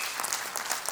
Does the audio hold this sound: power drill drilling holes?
no